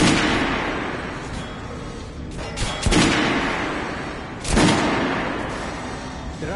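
Weapons firing in Metro: Last Light Redux at target-range dummies, heavy booming shots with long rumbling tails, a few spaced blasts over a dense, loud, continuous roar of gunfire and echo.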